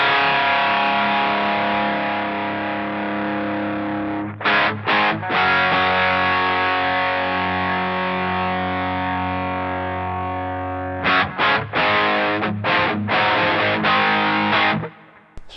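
Electric guitar played through a DOD Gunslinger overdrive pedal, sustained chords with moderate, not overly gainy distortion for a rhythm tone, ringing loud and alone with brief choppy stops and restrums near the end.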